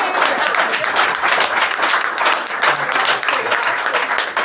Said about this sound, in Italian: allora un applauso al duo live